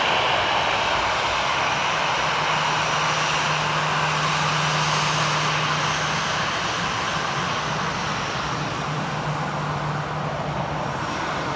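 Airplane engines roar steadily at busy Frankfurt Airport, a loud, continuous jet wash with a low steady hum underneath, distant traffic mixed in, and no voices.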